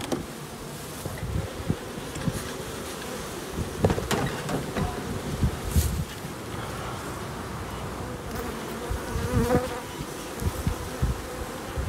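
Honeybees buzzing steadily at an open hive while the beekeeper smokes them, a dense continuous hum with scattered louder passes of individual bees and no talk.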